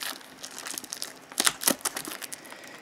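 Close crinkling and tearing of plastic packaging, with a few sharper rips standing out among softer rustles.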